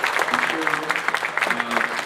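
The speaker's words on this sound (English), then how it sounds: "definitely give a big round of applause to both Erie and Paco, as well as" Audience applause at a live art event, where a crowd claps steadily through the whole moment while voices mingle underneath.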